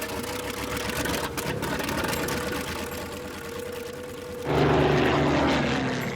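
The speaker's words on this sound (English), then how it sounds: "We take off from the same Fort Lauderdale runway at the same time, 2:10 in the afternoon, as Flight 19" A propeller airplane drones steadily as it takes off from a Fort Lauderdale runway, the engine noise loud and continuous, then swelling louder toward the end.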